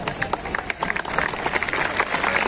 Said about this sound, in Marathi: तुम्ही कमीत कमी टाळ्या तरी वाजवा